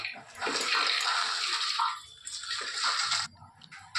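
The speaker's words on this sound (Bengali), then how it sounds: "একটু জল দিয়ে দেবো" Water pours steadily into a pressure cooker holding soaked moong dal, a close, loud, bright splashing rush that stops near the end.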